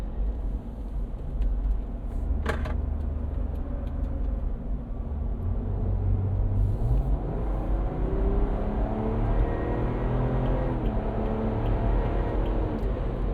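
A 2026 Ineos Grenadier off-roader with a B58 engine drives through a corner, a steady engine drone with rising tonal whine as it accelerates out, wind and road noise constant beneath.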